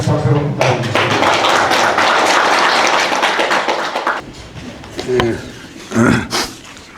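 Audience clapping at a lecture hall welcoming a professor for a Gyeongnam Confucian college class, a dense burst of applause for about four seconds, then scattered thumps and handling noises as it dies away.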